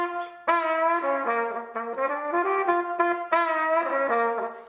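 A solo trumpet plays a short melodic phrase with a pitch bend, dipping into the middle G and sliding back up, heard close and clear with no talk.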